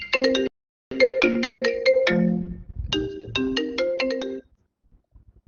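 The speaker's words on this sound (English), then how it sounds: "Just a minute, I need to silence my phone." A mobile phone rings partway through a technical talk on Kotlin, a bright melodic ringtone in quick repeated note bursts, loud and clear for about four seconds before it stops.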